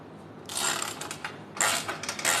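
Two bursts of rapid ratcheting clicks from a torque wrench tightening the crank on a Birdy City folding bike, close and fairly loud, with a short pause between them.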